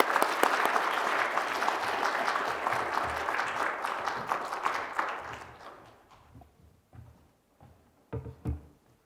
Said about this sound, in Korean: 우리 사랑의 박수로 우리 환영하도록 하겠습니다